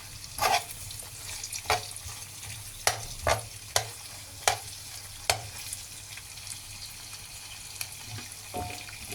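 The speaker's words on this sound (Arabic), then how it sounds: "حطينا اهو زي ما انتم شايفين، كبده تشوح." Liver and gizzards seasoned with cumin and black pepper sauté in a pan under a soft, constant sizzle, punctuated by about a dozen sharp clacks of a stirring utensil against the pan.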